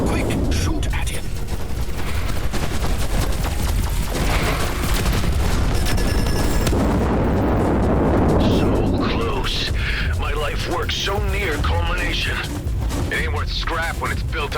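Blasts of weapon fire at an enemy ship in the space shooter Everspace 2, loud and dense over a rumbling game soundtrack, with a voice speaking over it.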